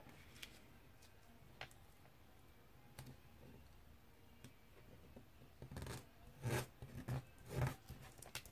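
Scissors snip through tulle fabric in a few quick, quiet cuts near the end, after a stretch of faint rustling and near silence at close range.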